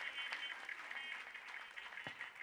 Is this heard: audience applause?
yes